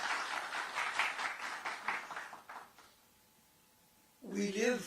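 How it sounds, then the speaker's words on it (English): Audience applause at a book release event for a work on the Mundaka Upanishad, a dense steady clapping from a crowd for about three seconds, then a brief lull before a voice begins speaking. "I think he deserves a round of applause."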